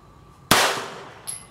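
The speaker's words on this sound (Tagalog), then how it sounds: "Tanda na itong baril yun to" An old, little-used gun fires a single loud, close shot that cracks sharply and rings off over about a second, followed by a brief faint high-pitched tone.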